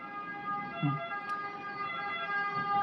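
An ambulance siren sounds as a steady, sustained electronic tone that holds level for the whole stretch, moderately loud with no voices over it.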